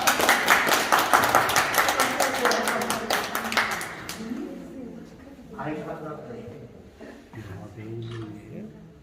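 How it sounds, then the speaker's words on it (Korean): An audience at a gallery photo exhibition breaks into a burst of hand clapping that fades after a few seconds, followed by someone speaking and then singing. "박수 한번."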